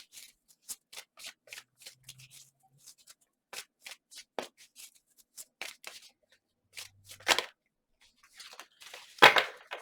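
Tarot cards are shuffled and handled at close range, giving soft, irregular flicks and rustles with brief snaps and quiet pauses between them.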